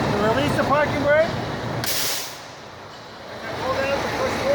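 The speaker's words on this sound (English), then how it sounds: "So release the parking brake." A truck's air brake lets out a sharp burst of hiss as the parking brake is released during an air brake system test, a brief loud release between stretches of talk.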